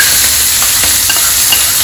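Green chili, curry leaves and garlic sputter and crackle in hot frying oil, a loud steady sizzle with scattered pops and sharp spits running throughout, no voices.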